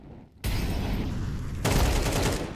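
Gunfire in Counter-Strike 2 during a Mapcore contest map playtest: a dense, loud burst of shots starting abruptly, then growing heavier partway through, sustained without pause and with no voices.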